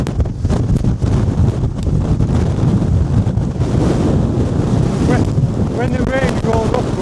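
Strong wind roars across an exposed gritstone edge at Stanage Edge, buffeting the microphone loudly and continuously, with a voice briefly heard over the gusts.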